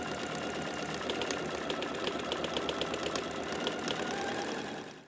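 Sewing machine stitching pleats into a pillow, a continuous close mechanical whirr with rapid needle ticking that runs steadily for about four seconds before stopping.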